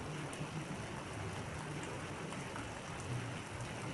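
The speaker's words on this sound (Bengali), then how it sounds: "বাইরে বৃষ্টি পড়ছে" Rain falling outside, a faint, even patter and wash of drops that holds steady from start to finish with no other sound.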